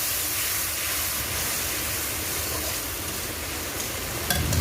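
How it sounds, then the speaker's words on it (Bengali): Chilli, cumin and coriander paste is sautéed with water in a pan for spicy crab curry, a dense continuous steamy hiss and sizzle close up, ending with a faint clink, no talking. "লঙ্কা বাটা জিরা ধনে বাটা জল ভালো করে কষিয়ে নেব"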